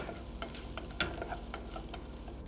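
Ginger pieces cook with onions in a pan, giving a faint, steady sizzle with soft stirring clicks and scrapes throughout, including one sharper tap near the middle.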